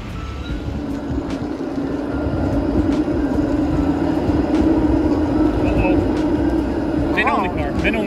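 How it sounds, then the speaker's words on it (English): A train rumbles past nearby in Tampere city centre, Finland, a steady low roar that builds and holds, with a voice speaking over it and a brief high squeal near the end. "look at the train going by."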